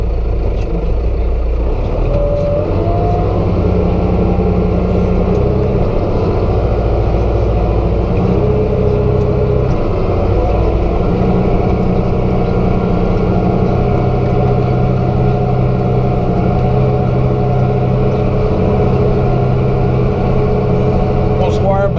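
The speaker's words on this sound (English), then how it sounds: "some more beautiful hay to rake up here with the Kubota rake." Kubota hay rake working through a field of cut hay, driven by a tractor engine that drones steadily and loudly throughout, with a low mechanical rumble and faint rattling from the raking gear.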